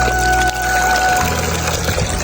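Cold well water pouring and splashing steadily, close and fairly loud, with a faint tonal hum in the background.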